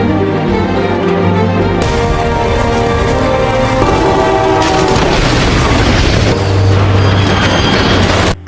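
Train crash in a film, a loud dense rumble of rolling rail cars with blaring horn tones, clattering wheels and heavy booming impacts that build and continue throughout.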